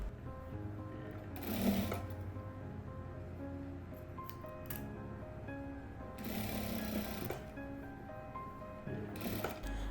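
A sewing machine stitches two-colour fabric for a patchwork quilt, running in bursts of rapid mechanical whirring with brief pauses and clicks between seams.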